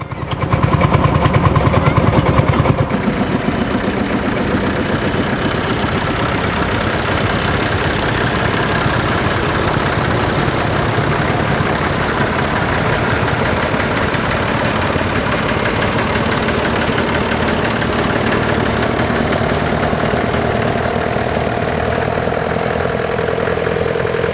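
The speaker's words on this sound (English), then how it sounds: "A Landini L25 built in 1956 and following behind it a Hornsby oil engine" A 1956 Landini L25 tractor and a Hornsby oil engine run together at a steam fair, giving a steady, continuous mid-to-low engine drone with a rhythmic knocking pulse, louder at the start and then holding an even level throughout.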